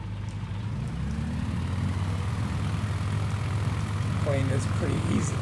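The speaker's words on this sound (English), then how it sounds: "Plane is pretty easy to take off." A propeller plane in Microsoft Flight Simulator 2020 roars through its takeoff run from Inyokern, a steady loud engine drone and prop hum holding throughout, with no one talking over it.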